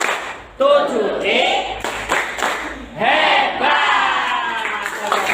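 Children clap and chant together in loud, rhythmic bursts, with short pauses between the phrases.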